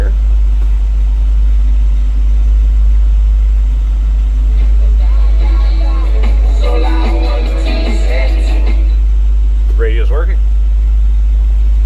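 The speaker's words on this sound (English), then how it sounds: "Nice little rumble coming out of that 350." A 1967 Chevrolet C10 pickup's 350 V8 idles with a steady low rumble throughout, while a person talks over it in the middle stretch.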